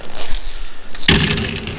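Spent brass shells are dumped out of a Marmot shell catcher's zippered pouch, a sudden loud jingling clatter of metal casings that rattles and settles for about a second.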